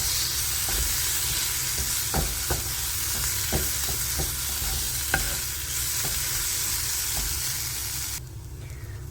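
Chopped tomato fries with spice powders for fish pollichathu, a dense steady sizzle with repeated light taps of a stirring spoon, then the sound cuts away near the end, with no voices.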